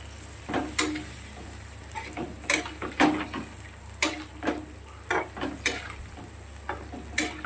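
Ginger and cumin paste mixed with water going into a hot frying pan, a low sizzle broken by repeated sharp scrapes and clicks of a spatula stirring at an uneven rhythm.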